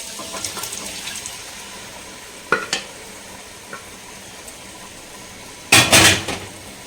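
Cooked mutton is stirred into masala in a hot pan with a soft background sizzle, spoon clinks and scrapes, and a louder burst of stirring near the end.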